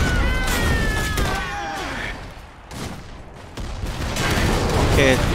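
Gunfire in the game Iron Harvest comes as bursts of rifle and machine-gun volleys with heavy impacts, under radio-style unit voice lines.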